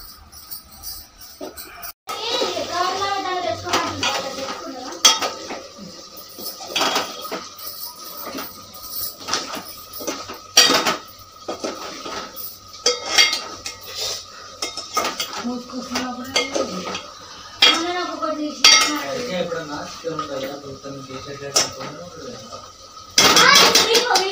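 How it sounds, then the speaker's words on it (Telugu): Pots, pans and metal utensils clatter and clink steadily while curry is mixed in a village kitchen, with frequent sharp scrapes and knocks, people talking throughout, and faint insect chirping behind. "ఇప్పుడు కూర కలిపిన ఫ్రెండ్స్ మీరు చూసారుగా."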